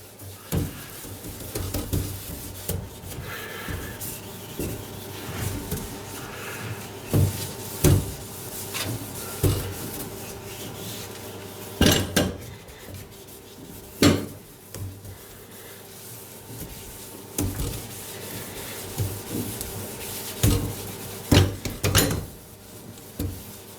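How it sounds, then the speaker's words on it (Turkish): A cut potato dipped in dish detergent is rubbed lightly across a dirty surface, giving soft irregular scrubbing strokes with occasional sharper knocks, close up and unhurried, with no talking. "Şu anda hiç kendimi yormadan şöyle hafif hafif ovuyorum."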